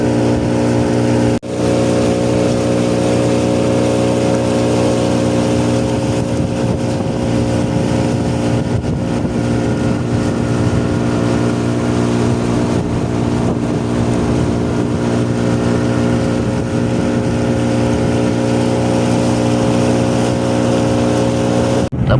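A motorboat runs out at sea toward island shores, its loud, steady engine drone a constant hum with rich low tones, mixed with wind and rushing water, going on unbroken and close by.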